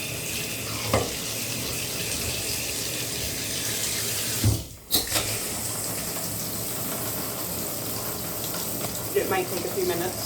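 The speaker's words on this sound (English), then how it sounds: "So get your water nice and warm." Warm water runs steadily from a tap into a bath, a continuous close splashing rush with a brief clunk midway, no talk over it.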